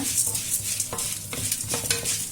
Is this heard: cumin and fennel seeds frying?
yes